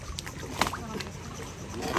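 Small rowboat noises on the water: soft sloshing and knocks against the wooden hull over a steady outdoor background, with a voice faintly present.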